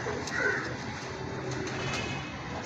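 A black-and-white breeder pigeon is handled up close while low cooing and faint bird calls run under a quiet room hum, with light rustling but no talk.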